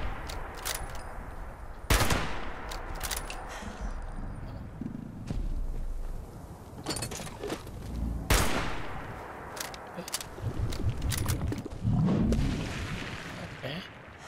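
Gunfire in the Fallout 76 video game: several sharp, loud shots at irregular intervals over a steady background rumble, with occasional speech.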